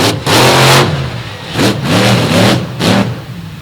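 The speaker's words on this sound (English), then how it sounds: "Away goes Stomper and Dalton Van Skyok." Monster truck Stomper at a destruction event, its big engine revving hard in three or four loud surging bursts as it pulls away, close and with no talk.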